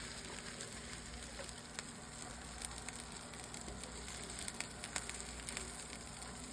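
Birria tacos fry in a pan with a faint, steady sizzle and soft crackling pops, continuous and quiet, with no talking.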